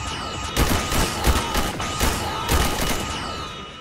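Gunfire in the video game Garry's Mod pops in rapid volleys, with several sharp bursts over a steady, noisy background and no voices.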